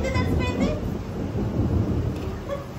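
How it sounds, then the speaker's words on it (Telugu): Thunder from a fierce storm with lightning rolls as a continuous, heavy low rumble that fills the whole stretch, with faint voices underneath. "భయంకరమైన మెరుపులు ఉరుములు."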